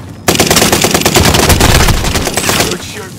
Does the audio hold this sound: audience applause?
no